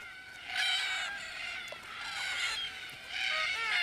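Harsh, raspy calls of red-tailed black cockatoos repeat in overlapping bursts, several birds calling together at moderate distance at sunset, with no talking.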